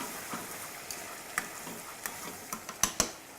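Vermouth bubbles and sizzles in a hot risotto pan as it boils away, a soft continuous frying hiss punctuated by sharp pops and ticks that grow more frequent and louder toward the end.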